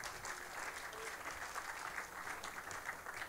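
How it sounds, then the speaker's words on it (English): A conference audience claps steadily at a festival talk on digital platforms, the dense applause fairly faint and distant throughout without pause. "big applause to women"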